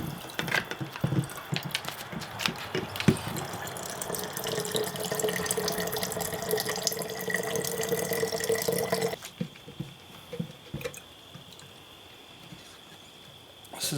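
Tap water runs steadily into a sink while dishes are washed in a camping cabin, a continuous close splashing hiss with small clinks, then the flow stops and only faint drips and handling noises remain.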